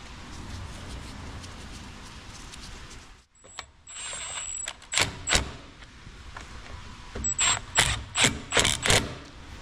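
Ratchet tightening bolts on a wheel cylinder of a 1956 VW Beetle rear drum brake, a quiet rustle then bursts of rapid clicking ratchet strokes, close and growing louder toward the end.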